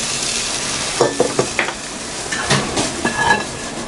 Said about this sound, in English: I'm going to transfer the potatoes and carrots into the pot